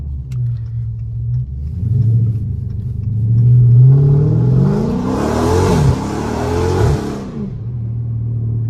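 A car in GTA, an SRT, revs up and slides, the engine rising in pitch and the tyres screeching in a loud hiss through the middle before it eases off.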